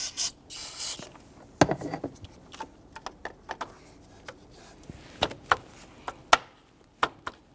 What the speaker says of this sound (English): take a little bit of spray solvent and spray the tops of these blue O-rings